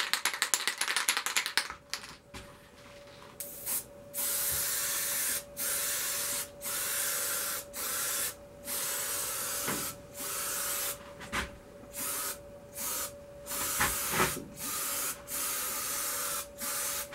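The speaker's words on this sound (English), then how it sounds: "I'm going to use some spray adhesive to put that on with" Repeated short hissing bursts from a spray adhesive can in a woodworking shop, a dozen or so spurts with brief pauses between them, close and steady.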